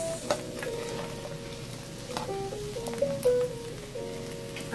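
A spoon scrapes and clinks around a pot of seafood macaroni soup while the contents sizzle softly, giving a few irregular taps over a steady hiss.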